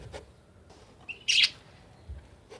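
A budgerigar gives a single short, bright chirp against quiet background noise, with a few faint thumps around it.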